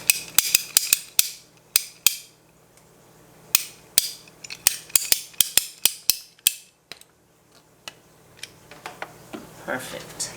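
Aquarium intake pipe for an African cichlid tank being cut with a ratcheting pipe cutter, a rapid series of sharp clicking snaps in irregular bursts, close and crisp against near silence.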